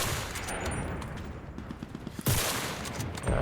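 Gunfire in the World War II shooter Enlisted, with scattered distant shots and battle noise before a single loud sniper rifle crack near the end, followed by another sharp report.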